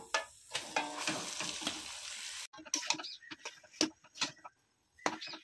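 Mashed potato with spices is stirred and fried in a pan for alur chop, producing soft sizzling and uneven scraping strokes of a spoon, close and fairly quiet.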